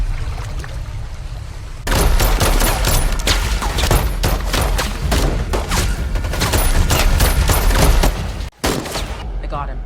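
Rapid bursts of gunfire in a firefight, where a man on a riverbank trades shots using a pistol from his back; dense, loud cracks and booms run continuously for several seconds, then break off sharply.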